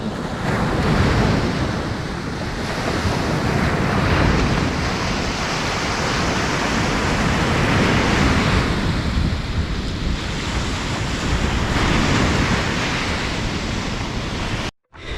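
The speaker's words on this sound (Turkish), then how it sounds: "Ben kendimi şu dalgaların sesine bırakayım." Sea waves break steadily on a shore of the Kapıdağ Peninsula near Erdek, Turkey, as a loud continuous surf wash with slow swells, mixed with wind buffeting the microphone for about fifteen seconds.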